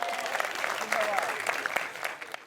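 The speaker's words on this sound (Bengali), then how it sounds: "জোরে হাততালি হবে তাদের জন্য।" A crowd at a large public gathering applauds invited guests, with moderately loud, steady clapping heard at a slight distance and a voice faintly audible beneath it.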